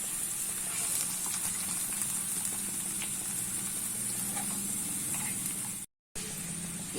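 Potato pieces frying in oil in a village kitchen, a steady close sizzle and hiss that runs unbroken for several seconds, with one brief drop-out near the end.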